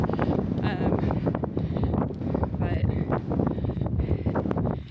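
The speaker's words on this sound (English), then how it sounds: "It is so windy out here." Heavy wind buffets the microphone in steady roaring gusts in a parking lot at Great Sand Dunes National Park, with rustling and a voice partly audible underneath.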